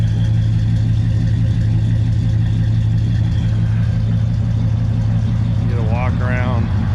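The engine of a 1951 Chevy panel truck idles at the rear with a steady low rumble and hum, constant and fairly loud, with a brief warbling tone near the end.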